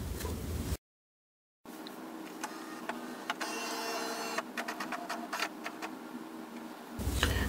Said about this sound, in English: The printer will restart, and after restart, the printer would have reset back to factory defaults.